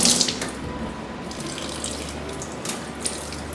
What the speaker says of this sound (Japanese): そしたらこの牡蠣を洗います。